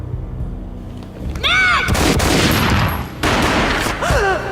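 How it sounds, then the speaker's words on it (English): A single heavy gunshot booms in a Max Payne video game cutscene, loud and close against a tense score, with a second burst of noise following a moment later. "A gunshot boomed and she fell down in slow motion."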